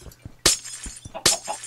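Glass blocks shattering in Minecraft, two sharp bright crashes about a second apart, each with a short tinkling tail over quiet background clicks.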